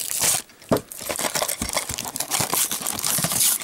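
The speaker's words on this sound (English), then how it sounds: "I gotta cut the tape." Scissors cut packaging tape on a Matchbox Real Working Rigs toy package, giving close, crisp crinkling and tearing bursts of plastic.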